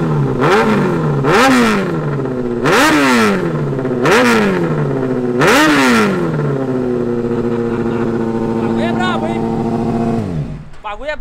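Honda Hornet 600cc motorcycle engine revved hard five times in a rhythmic series, each rising and falling roar loud and close, then idling briefly before cutting off.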